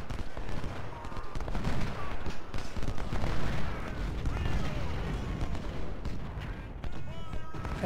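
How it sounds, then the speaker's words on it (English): Rapid, overlapping rifle and musket gunfire from a Civil War battle in the Ultimate General: Civil War strategy game, a dense and continuous crackle with booming reports that stays loud throughout. "I guess they changed their mind, so I'll have the sniper shoot him,"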